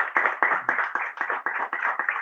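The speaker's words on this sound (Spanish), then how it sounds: "primero un aplauso para Gabriela" Audience applause for Gabriela at a poetry book launch, heard as a small group's steady, close clapping with distinct hand claps in a brisk rhythm.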